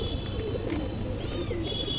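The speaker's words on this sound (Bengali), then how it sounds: "কবুতরগুলো বাইরে বের হওয়ার জন্য একদম ছটফট করতেছে।" Restless pigeons in a pigeon house coo in low, repeated murmurs over a busy background hum, with a few higher chirps and faint rustling, moderately near.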